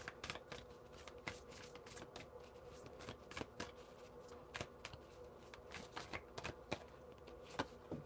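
Tarot cards are shuffled and drawn in a quiet run of crisp riffles and sharp flicks, irregular and close but soft, with no voices.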